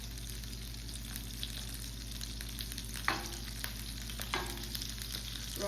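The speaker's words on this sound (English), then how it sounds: "We're gonna add half a stick of butter in" Half a stick of butter melts in a hot pan, giving a soft, steady sizzle with a couple of faint clicks, heard alone and fairly quiet.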